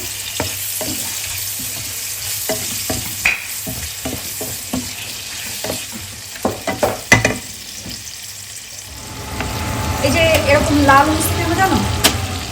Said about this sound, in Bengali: এখন আমি জাস্ট চিংড়ি মাছটা পেঁয়াজের সাথে ভেজে নেব